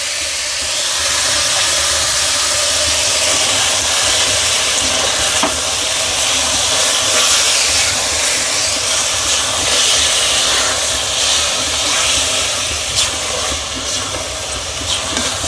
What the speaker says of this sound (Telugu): ఇప్పుడు వేగిపోతుంది మంచిగా.